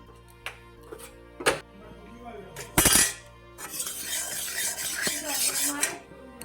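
A metal kadai is set onto a stove with clanks and scrapes of cookware, then sharp metallic knocks and a burst of broadband clatter and rustling in a home kitchen; no talk.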